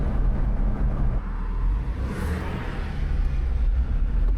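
A Jeep Wrangler engine runs steadily with a low, continuous rumble, heard up close from inside the vehicle with no talking.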